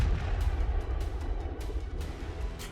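Russian artillery fires shells from trench positions in Donetsk, heard as a dense, rumbling roar of distant booming with a steady low boom throughout, no voices.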